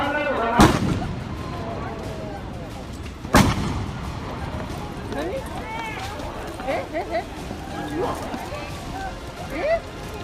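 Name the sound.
gunshot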